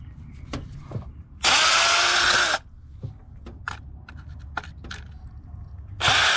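A power drill removing two Phillips head screws during spark plug work on a 2002–2007 GMC Envoy or Chevy TrailBlazer gives two loud whirring bursts, one about a second long, with clicks and handling noises between them.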